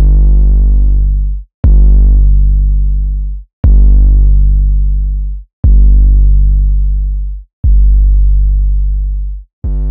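A distorted 808 bass made in Logic Pro hits five times at a steady, slow pulse, each note loud and booming with a sharp attack and a gritty, overdriven buzz that fades before the next one.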